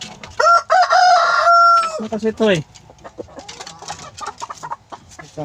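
A loud Asil rooster crow rings out first, followed by quieter clucking from Asil chickens while someone speaks briefly nearby.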